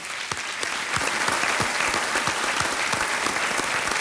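Sustained, dense applause from a studio audience on the Hindi game show Kaun Banega Crorepati, steady and loud throughout with no pauses and only faint traces of voices beneath.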